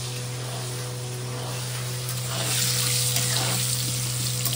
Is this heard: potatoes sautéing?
yes